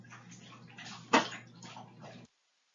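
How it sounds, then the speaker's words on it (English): A dog laps water from a bowl, a steady run of wet slurping splashes with one louder slosh partway through, close and alone before stopping abruptly. "Dog's gonna start drinking water."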